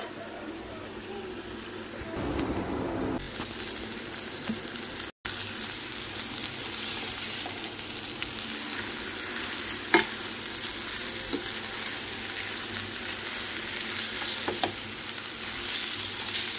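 Amaranth leaves frying and wilting in oil in a pan, giving a steady close sizzle with occasional stirring scrapes throughout, no talking.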